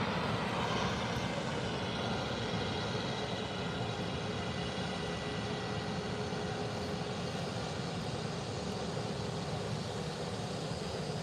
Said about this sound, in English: Landing into the fog.